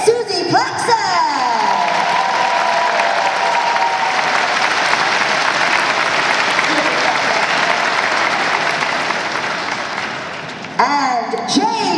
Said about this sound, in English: please give a warm round of applause to our first guest